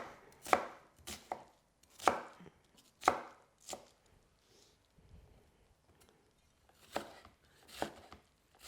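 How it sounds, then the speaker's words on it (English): A knife dicing a very large onion on a board, with a handful of distinct, fairly soft chops spaced irregularly and separated by short quiet gaps. "Nice dices of onion."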